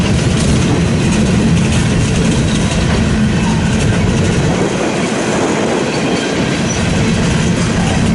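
Eastbound freight train with many locomotives rolling past at close range, a loud steady rumble of engines and wheels with clickety-clack rail joints throughout, no voices.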